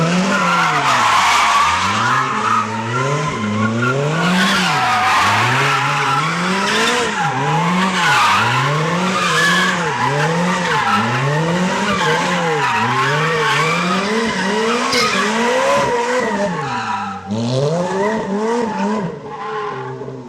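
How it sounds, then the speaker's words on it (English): A Ferrari F430 Spider in Need for Speed Shift drifts and skids, its engine note swooping up and down in rapid repeated revs while tires squeal continuously, loud and close for the whole stretch with no talking. "The F430 Spider appears in Need for Speed Shift."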